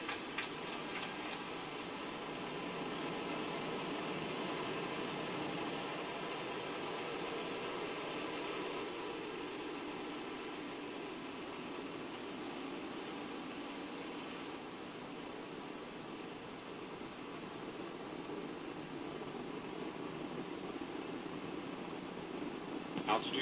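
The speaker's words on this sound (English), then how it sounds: "Ignition and liftoff of Ares 1X." The Ares 1X rocket ignites and lifts off, heard as a faint, distant, continuous roar that holds steady throughout with no speech.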